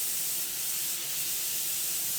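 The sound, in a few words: airbrush spraying airbrush cleaner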